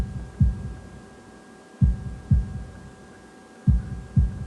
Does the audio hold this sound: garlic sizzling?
no